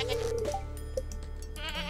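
Goats bleating on a farm in the video game Stardew Valley, a short series of bright wavering bleats over a quiet game soundtrack, with faint talk.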